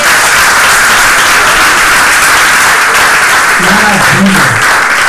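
A loud, washing roar of applause and cheering from the audience at a children's vacation Bible school, sustained throughout, with a voice calling out briefly near the end.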